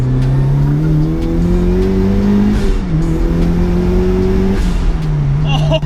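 A 300bhp turbocharged Mazda MX5 with widened track and a big rear wing accelerating hard in third gear, its engine note climbing steadily then dropping at a shift before rising again, loud and close from inside, with brief speech.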